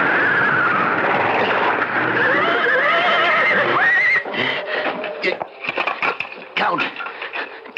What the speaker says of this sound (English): The horses went wild.